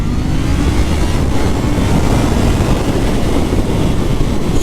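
Kawasaki ZH2 motorcycle on its stock exhaust, pulling hard in second gear with short gearing, a steady loud engine roar with wind noise that holds continuously without pauses.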